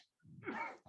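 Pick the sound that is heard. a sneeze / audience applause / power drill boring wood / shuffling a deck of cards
a sneeze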